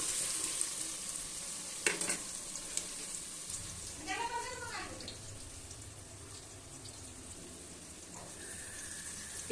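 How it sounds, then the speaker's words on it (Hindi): Onions frying in hot oil make a steady hiss with a couple of sharp clinks and a short scraping stir, fairly quiet and close, with a faint tonal squeak near the end. "अब हम ऑयल को गरम करके प्याज ऐड कर देते हैं"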